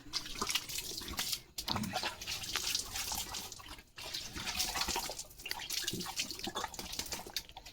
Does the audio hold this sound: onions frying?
no